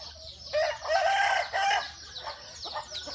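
Chickens on a family farm's poultry-raising area, with a rooster letting out a loud, drawn-out crow in the first half and clucks scattered after, fairly close.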